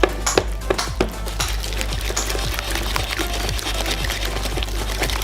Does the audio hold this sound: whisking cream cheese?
yes